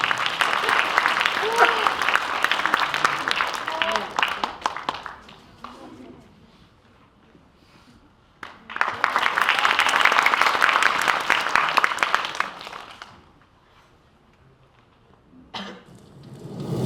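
An audience at a Korean independence activist award ceremony claps in two long bursts of applause, dense and loud, fading between them with a brief cough in the quiet gap.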